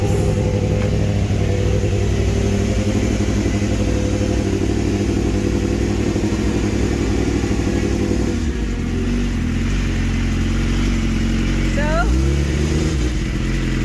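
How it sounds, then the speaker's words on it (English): A superbike engine warms up at fast idle in a race paddock, a loud, steady, close drone that holds throughout, with a brief rise in pitch near the end and people talking over it. "I'm just warming up the engine. Fast idle."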